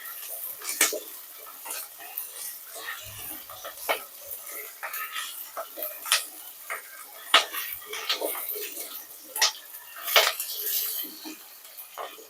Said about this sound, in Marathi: एक निदान आपण 1 मिनिटासाठी सॉर्ट करून घेऊया हाय फ्लेम वरती